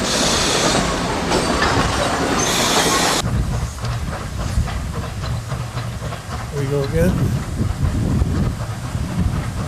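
A China Railway SY class 2-8-2 steam locomotive, number 1679, hauls a string of dump cars at the Tangshan coal mine, a loud continuous rumble and clatter of wheels with a brief squeal, while someone speaks briefly nearby.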